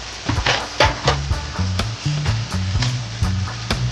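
Kimchi sizzles and crackles steadily as it is stir-fried with mushrooms in a hot pan for kimchi fried rice, with occasional stirring scrapes and bursts over a continuous frying hiss.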